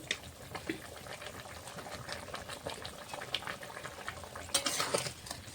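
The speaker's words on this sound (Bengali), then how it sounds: "ঝোলটা ভালোভাবে ফুটে উঠেছে" Fish curry gravy with potato and okra simmers at a soft, steady boil, with faint bubbling and popping over a low hiss that rises briefly near the end.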